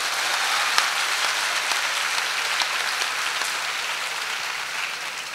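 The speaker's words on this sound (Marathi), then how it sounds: "एकदा जोरदार टाळ्या त्यांच्यासाठी होत्या" An audience claps at a comic speech, steady dense applause from a crowd filling the whole stretch at an even level, with no voices heard over it.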